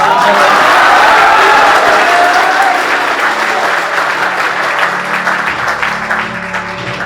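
Loud, dense applause from a large crowd at a Republic Day celebration fills the space and gradually thins out, with a voice beginning to speak near the end.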